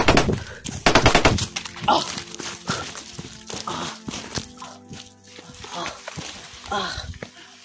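Rapid bursts of gunfire crack loudly at the start of a tense standoff, then fade under shouting voices and scattered later shots.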